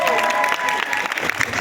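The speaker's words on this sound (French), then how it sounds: "Est-ce qu'on peut applaudir?" Audience applauding for a 15-year-old girl who has never danced before, a short spell of lively clapping with some cheering and voices mixed through it.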